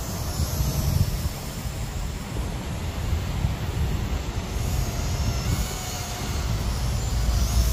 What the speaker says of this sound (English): It's fighting through all of this wind out here.